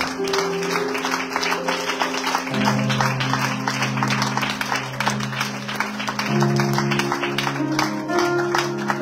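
A church congregation applauding and cheering, sustained clapping from a crowd under loud sustained music and keyboard chords.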